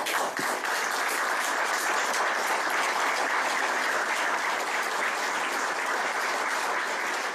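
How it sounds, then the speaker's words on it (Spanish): An audience claps in sustained, dense applause at a talk about the Malvinas, holding a steady level throughout without any speech over it. "apláudanlo, Nicolás, muchas gracias, pero me inhiben mucho los aplausos"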